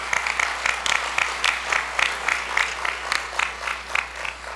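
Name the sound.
audience applause at a gala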